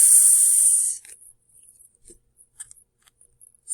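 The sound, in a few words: voice imitating snake hiss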